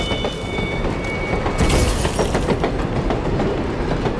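A video game train rolls past in a steady rhythmic clickety-clack with a loud rumbling swell in the middle, heard alone with no talking.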